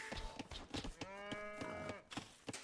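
A cow moos in Age of Empires II, a single drawn-out low moo heard faintly amid soft clicking game sounds.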